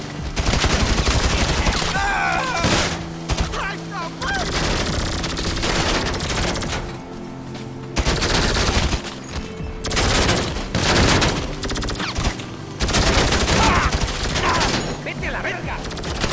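Rapid automatic gunfire against aliens in GTA 5 rattles in long, loud bursts with brief pauses between them, dense and close, with mechanical clatter.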